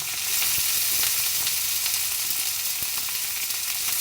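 Chopped potatoes with minced garlic and onion fry in oil for a Bengali lentil and potato dish, giving a steady, loud sizzle that runs unbroken throughout with a few faint stirring clicks and no voices.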